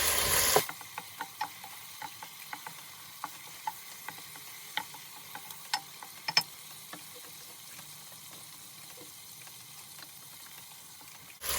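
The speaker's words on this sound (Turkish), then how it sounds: "Güzelce kavuruyoruz bunları birlikte." Tomato paste and other ingredients for a rice and spinach dish sauté in a pan, a faint low sizzle broken by scattered clicks and taps of stirring.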